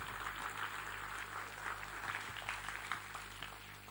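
A crowd claps steadily and fairly faintly at a live Islamic religious gathering with rebana frame drums in Jombang, a continuous patter of many hands.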